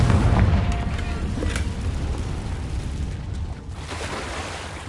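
The Confringo fire spell in Hogwarts Legacy goes off as a loud, close, booming blast, followed by a long rumbling roar that slowly fades across several seconds.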